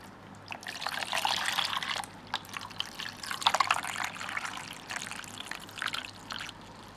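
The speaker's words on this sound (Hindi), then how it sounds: "वाटर टैंक के अंदर पानी डालेंगे" Water is poured into the water tank of a Redwood bench grinder, an uneven trickling, splashing pour that rises and falls in bursts over several seconds with no talking.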